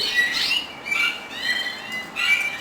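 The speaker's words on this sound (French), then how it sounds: "Tout ça c'est des couples d'arlequins de cette année, ou des jeunes oiseaux." Young birds and pairs of harlequin birds in a breeder's aviary give bright, close chirps and squawks in three bursts separated by brief pauses over a quiet background.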